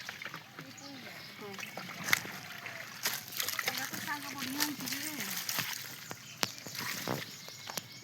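Water gushing and flowing outdoors in a village vegetable garden, a steady wash of splashing and sloshing with sharper splashes throughout, while someone talks over it.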